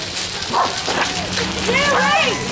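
A dog barks and yelps amid a chaotic outdoor scene, with a few sharp calls rising over shouting voices and steady background noise.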